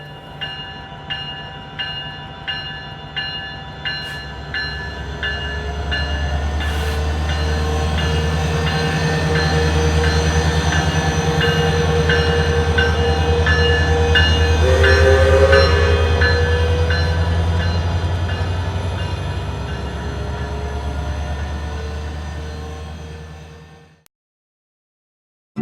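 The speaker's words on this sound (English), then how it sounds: "this train is like something out of the 1800s" An old-fashioned passenger train at a station, heard alone: a run of rhythmic clacks opens, then a steady loud rumble of the engine and wagons with tonal whines and brief horn-like tones, ending abruptly.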